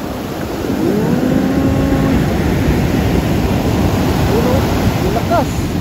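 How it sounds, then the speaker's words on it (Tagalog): Big ocean waves roll in at Pawikan beach in Morong, Bataan, a loud, steady surf roar filling the whole stretch, with faint voices and brief whistly tones drifting over it. "Takot sa alon kasi lalaki talaga ng alon."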